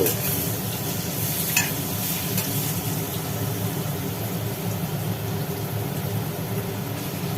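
Pointed gourd (potol) frying in oil in a kadai, a steady close sizzle with faint stirring scrapes, continuous and even throughout with no talk.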